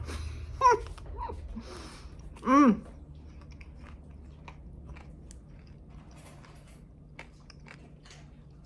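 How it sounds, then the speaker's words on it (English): Crunchy bites of a broccoli, apple and walnut salad with bacon, two loud close chewing crunches early on, then quieter chewing and small mouth sounds against a low room hum. "I hear me crunching. That's a bacon and apple."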